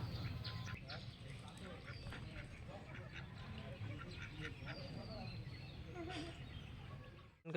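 Ducks quack repeatedly in a lively cluster nearby, with people talking over the steady background noise.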